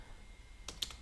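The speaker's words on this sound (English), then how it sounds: "This time let me type." A short, faint patter of computer keyboard keystrokes, a few quick clicks bunched near the end, during Java coding in a quiet room.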